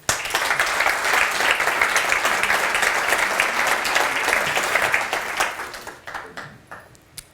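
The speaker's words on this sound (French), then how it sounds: "Vous pouvez les applaudir." An audience at a leadership award ceremony applauds, dense sustained clapping for about five seconds that then thins into scattered claps and fades out.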